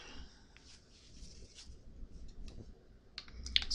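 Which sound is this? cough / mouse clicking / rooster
mouse clicking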